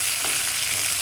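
Green chillies, ginger and dried red chillies fry in a pan on low heat, giving a continuous close sizzle with no voices.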